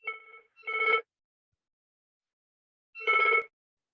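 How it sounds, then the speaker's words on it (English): A telephone rings twice in a quiet room, each ring a short electronic trill. A gap of about two seconds separates the two rings, and nothing else is heard. "Someone's getting a phone call."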